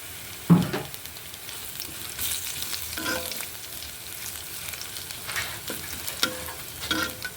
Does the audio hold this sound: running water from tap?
no